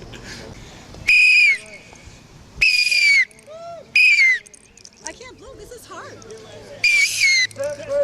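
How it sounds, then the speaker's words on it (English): Protesters at a rally for Bradley Manning blow loud, shrill whistles in several sharp bursts, with people talking and calling out between the blasts. "Why are you blowing whistles?"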